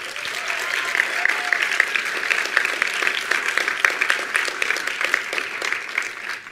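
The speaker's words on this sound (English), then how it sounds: "I think all of you guys deserve a round of applause for your efforts." An audience at a student film and animation festival awards night applauds student filmmakers, a sustained crowd of clapping with some scattered sharper claps standing out, loud and continuous throughout.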